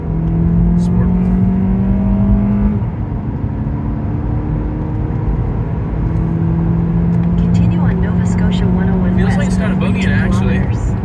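A car fitted with a Corksport intake revs loudly in sport mode, its engine note climbing and holding before dropping and rising again, with people talking over it.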